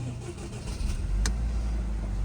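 A Cadillac ATS with a 2.0L or 2.5L engine and a camshaft sensor fault cranks and catches, building into a steady, fairly loud idle rumble in a workshop, with a brief sharp click midway.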